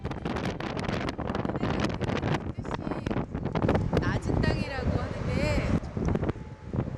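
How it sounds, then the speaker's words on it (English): Strong wind roars and buffets the microphone nonstop in the Netherlands, with a voice speaking underneath the gusts. "it is always this windy in the Netherlands"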